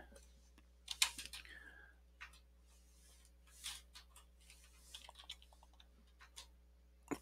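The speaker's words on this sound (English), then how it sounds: "So let's just go in here and start typing." Someone types on a computer keyboard, with scattered clicks and short bursts of keystrokes close by over a faint steady hum. There are also a few brief noises that may be mouth sounds.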